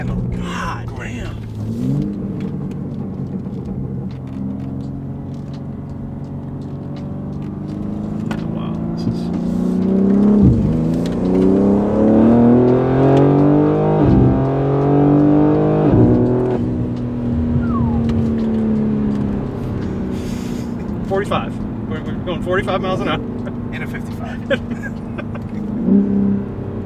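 BMW G80 M3 fitted with front mount intakes, its engine droning loud and steady, swelling to a stronger rising pull in the middle before easing off, with occasional talk inside the car.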